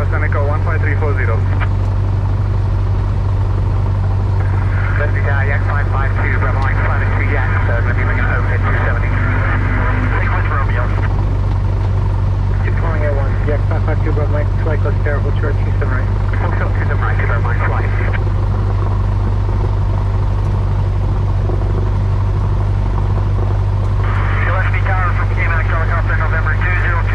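A Piper Seneca light twin's engines drone loudly and steadily through a cockpit headset during a takeoff roll on runway 27 right, while radio voices talk intermittently over the constant engine roar.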